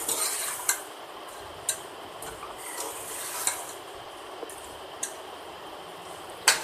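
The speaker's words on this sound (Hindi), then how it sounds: "1 चम्मच अदरक का पेस्ट डाल देंगे, 1 चम्मच लहसुन का पेस्ट डाल देंगे और लहसुन अदरक को हम 1 मिनट तक भून लेंगे।" Ginger and garlic paste sautéing with goat meat in a pan for Delhi nihari, a quiet sizzle with occasional stirring scrapes and light clinks at intervals, close but soft.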